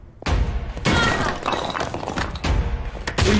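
Gunfire in the horror game Burnhouse Lane: a series of sharp, loud impacts and cracking bursts, starting abruptly and recurring over a dense, noisy game soundscape.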